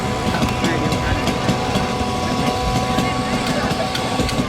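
Racing speedboat engines rumble at a speedboat race course, a steady, loud, continuous motor drone, with a commentator's voice running over it.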